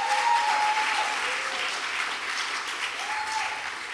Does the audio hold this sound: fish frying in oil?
no